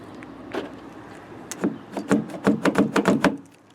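Central locking on a 2004 Ford Focus C-Max door engages with a burst of rapid mechanical clicks and clunks, a soft thud first, then a quick run of sharp actuator snaps, close and fairly loud with no voices.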